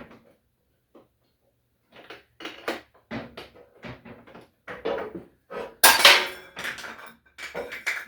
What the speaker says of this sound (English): there went my Indian Scout coffee cup